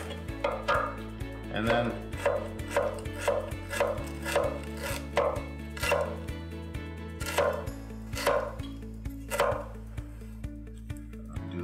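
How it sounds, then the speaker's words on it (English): A knife halving Brussels sprouts on a cutting board, a rhythmic run of crisp, close chops coming about twice a second, with a few words spoken briefly partway through. "Take your knife, cut your sprout in half,"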